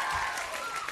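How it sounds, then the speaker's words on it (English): Studio audience applause on a 1989 kids' game show, a brief, steady wash of clapping and crowd noise mixed with a voice speaking over it. "a round of applause."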